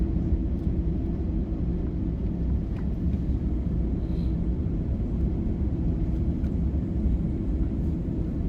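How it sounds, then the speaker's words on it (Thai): Singapore Airlines Boeing 787 descending toward Chubu Centrair airport, heard from inside the cabin as a loud, steady low engine and airflow roar that holds unbroken throughout. "เครื่องบินกำลังลดระดับลงสู่สนามบินจูบุเซ็นแทครับ"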